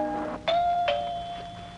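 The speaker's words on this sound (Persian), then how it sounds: "برو تا من زنگ در خونه رو بزنم" A house doorbell rings out a clear two-tone ding-dong chime at close range, the second tone ringing on and slowly fading, with no talking.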